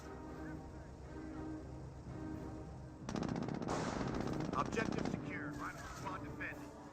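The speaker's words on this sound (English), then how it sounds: "MG firing away." A machine gun firing in the real-time strategy game Company of Heroes: a steady rapid burst of shots for about two seconds over a busy battle soundscape, with a commentator talking throughout.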